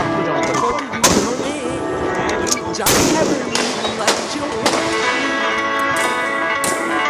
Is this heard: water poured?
no